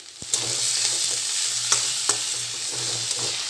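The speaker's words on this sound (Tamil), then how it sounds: "அதுக்கு ஒரு பாண்டில் 2 டேபிள் ஸ்பூன் ஆயில் ஊற்றிட்டு இது கூட 2 பெரிய வெங்காயம் நான் கட் பண்ணி வச்சுருக்கேன். இதை நம்ம சேர்த்துக்கலாம்." Chopped onions fry in about two tablespoons of oil in a pan, giving a steady close sizzle with occasional clinks and scrapes of a stirring spoon; no one speaks.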